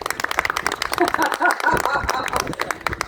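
An audience claps in a show-of-hands style vote on whether a song is a folk song: a short burst of scattered, fairly close hand claps with a voice briefly heard among them.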